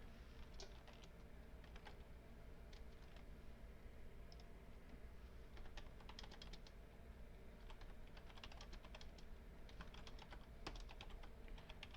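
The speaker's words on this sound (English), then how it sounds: "Just typing." Someone types on a computer keyboard, a faint, steady patter of quick keystrokes clicking in irregular runs over a quiet background hum.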